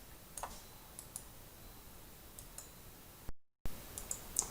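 A few faint, sparse clicks of a computer mouse during text copying, isolated taps scattered over a quiet background.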